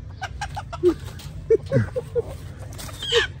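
Miniature chickens cluck in short, uneven bursts close by, with a few sharper squawks among the scattered calls.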